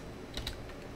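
A computer keyboard is typed on quietly, a couple of soft key clicks over a steady background hiss.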